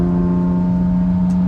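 A V6 car engine droning steadily while cruising on a freeway, a loud, even hum with strong sustained tones and road noise, heard from inside the car with no talking.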